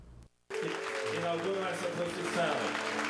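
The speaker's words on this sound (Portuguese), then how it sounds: "Com muitos aplausos e diversas demonstrações de fé e devoção" Crowds of faithful applaud at the Festa da Penha religious festival at a convent in Brazil, a dense wash of clapping and crowd noise under a narrator's voice after a brief pause.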